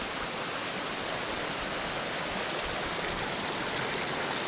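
Cold mountain stream in the New Zealand high country, rushing steadily over rocks as a broad, continuous wash of water noise, close and even throughout with no talk.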